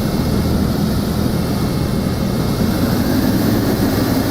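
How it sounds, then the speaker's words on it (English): Piper Comanche engine in Microsoft Flight Simulator, a steady, loud, low droning hum with a constant propeller rumble and no voices over it. "It sounds like an engine running."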